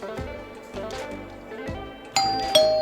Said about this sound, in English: when somebody rings your doorbell